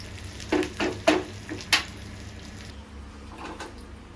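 Gongura leaves frying in oil and being stirred in a pan, giving a soft sizzle broken by a handful of sharp scraping and clattering strokes in the first half, then a quieter steady fry.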